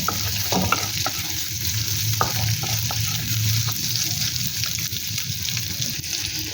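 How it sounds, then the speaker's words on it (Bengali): Chopped onions stirred and fried in a pan for chilli chicken, with a steady, close sizzle running throughout and the scrape of stirring on top, and no talking. "এবারে দিয়ে দেব পেঁয়াজ কুচি খুব ভালো করে মিশিয়ে নেব"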